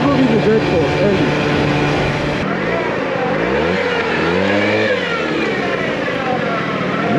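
A derestricted Gilera Runner scooter engine drones loudly while riding, its pitch sweeping up and down as it accelerates and shifts, with wind rush over the sound and a voice speaking over it.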